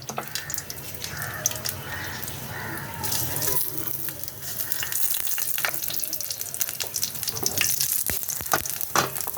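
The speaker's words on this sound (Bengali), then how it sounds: "দেব শুকনো লঙ্কা দেব দুটো, আর দেবো একটু কালো জিরে ফোড়ন" Dried red chillies and nigella seeds tempering in hot oil in a kadai, a continuous crackling sizzle with stirring clatter and sharp pops building toward the end, no talking.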